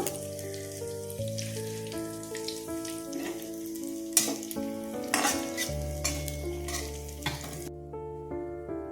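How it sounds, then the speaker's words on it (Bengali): Cumin seeds crackle and sizzle in hot oil in a pan for palak paneer, a bright continuous frying hiss with occasional louder pops and stirring, heard close under steady background music. "জিরে ফোড়ন দিয়ে দিলাম"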